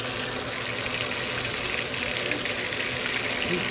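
Potato chips frying in hot oil on a stovetop, a dense, even, continuous bubbling sizzle held close and loud with no break.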